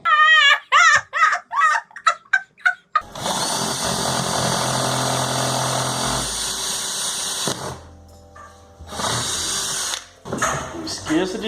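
A power drill bores holes through plastic basins, starting after a stretch of speech and whining steadily for several seconds, with short pauses and later bursts of drilling mixed with talk.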